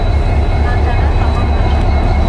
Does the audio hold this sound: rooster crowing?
no